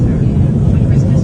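Steady, loud low roar of an airplane cabin during flight, an unbroken engine and air rumble with no distinct events.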